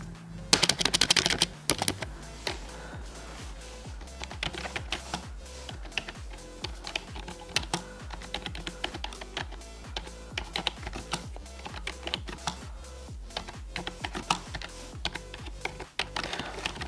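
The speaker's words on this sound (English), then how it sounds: "as much as we're doing a sound test, we're also doing a typing and a feel test on the keys" Fingers type on a budget ergonomic computer keyboard with firm keys, a close, crisp run of clacky keystrokes in uneven bursts and pauses, heard alone without talk.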